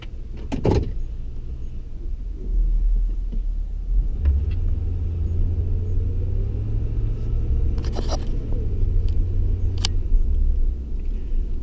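A Ford Crown Victoria on a test drive produces a low, steady engine rumble and road drone, with a few faint clicks and knocks from inside the cabin.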